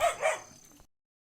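An injured, bleeding dog gives two or three short close barks in quick succession, then a softer trailing yelp before the sound stops.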